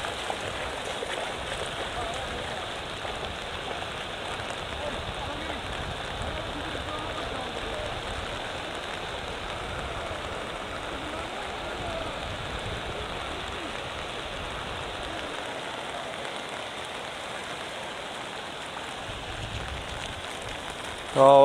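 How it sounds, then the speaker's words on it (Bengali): Heavy monsoon rain pours steadily during flooding in Gowainghat, a dense, continuous hiss of downpour close by that stays loud and even throughout, with no talk over it. "প্রচণ্ড বৃষ্টি"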